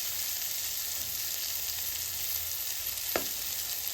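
Vegetables fry in a pan on a high gas flame for white sauce pasta, giving a steady, close hiss that runs without a break, with one short scrape of stirring near the end.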